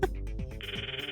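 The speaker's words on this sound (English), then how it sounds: "The phone rings." A phone rings in the video game Steins;Gate: a steady electronic ring tone starts about halfway through and holds clearly over low background music, with no talking.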